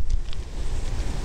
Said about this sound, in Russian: Боюсь, что ветер все сдует.